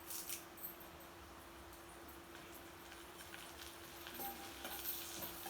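Asafoetida and curry leaves fry in hot oil as a tempering for kadambam. A soft, steady sizzle runs throughout at low volume, with a few faint clinks near the end.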